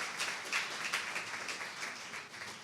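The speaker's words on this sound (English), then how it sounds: "let's give the seniors, again, one more round of applause" Audience at a 2019 graduation ceremony gives the graduating seniors a round of applause, a soft, distant wash of many hands clapping steadily throughout.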